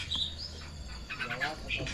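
Asian pied starling calling in a Sundanese village, a few short, high chirps and whistles scattered over two seconds against a low background hum, fairly faint.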